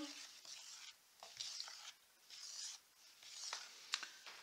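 Wet, still-runny plaster is stirred in a container, giving several close, quiet scraping strokes in a steady rhythm with brief pauses between them.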